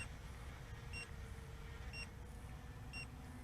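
A Potensic Dreamer 4K quadcopter beeps during return to home: clear, evenly spaced electronic beeps about once a second over a constant hum of rotors and wind outdoors.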